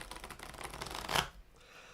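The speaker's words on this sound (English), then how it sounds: "We have me doing the shuffle." Tarot cards shuffled on a tabletop, a steady papery riffle building to a louder burst of cards snapping together before it drops away to quiet.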